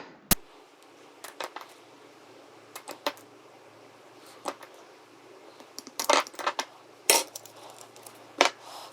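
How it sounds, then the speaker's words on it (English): A spoon or whisk stirs half a teaspoon of pure vanilla into a basic carnivore-diet custard, giving sparse, sharp clinks against the bowl with quiet gaps between them. The clicks cluster more densely toward the end. "I'm going to go ahead and mix that in."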